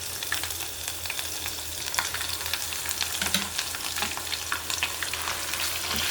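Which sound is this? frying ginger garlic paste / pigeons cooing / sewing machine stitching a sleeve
frying ginger garlic paste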